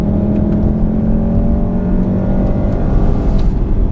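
A 2015 VW Golf R engine drones loudly and steadily under acceleration, with a whirring tone that shifts slightly; the individual dual-clutch gear changes are barely distinct.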